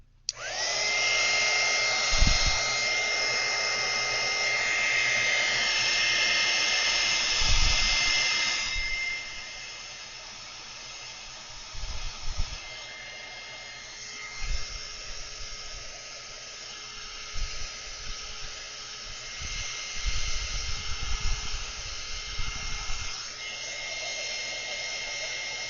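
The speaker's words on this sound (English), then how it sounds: "Now we're going to turn on the heat gun." A heat gun blowing hot air gives a steady, loud whooshing whine that eases off partway through, with scattered knocks and handling bumps beneath it.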